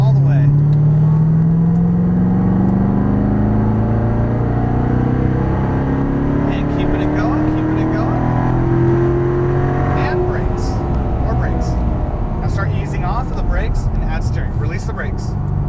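A Corvette Stingray accelerates at full throttle on a race track in Las Vegas, its engine note climbing steadily through a gear, then shifting and rising again, loud and close, with a voice speaking over it.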